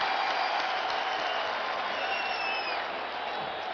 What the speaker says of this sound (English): And Thurman Thomas gets the crowd excited